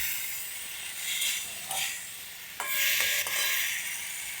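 Fried fish sizzles in hot spice masala as it is stirred, a steady hiss broken by scraping spoon strokes, followed by a brighter sputtering surge when water is poured in.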